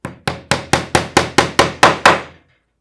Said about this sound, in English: we're going to have to hammer this one in, right? So grab your handy dandy hammer.